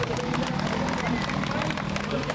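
Audience at the Tarawera race finish applauding finishers, a dense brief burst of clapping mixed with crowd babble and cheering, close and steady throughout.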